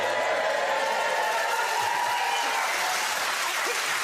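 Comedy club audience at a stand-up show applauding, a dense steady wash of clapping that holds evenly for the whole stretch, with faint tonal sound running under it.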